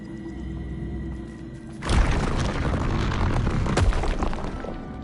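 A fire spell blasts in the Hogwarts Legacy video game, a sudden roaring burst that swells out of a quiet ambient bed and rumbles on for several seconds, with a second surge near the end.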